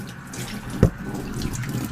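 Super hot water from a water heater runs steadily through a hose in a python cleaning setup, a continuous close rushing flow with one brief thump near the middle.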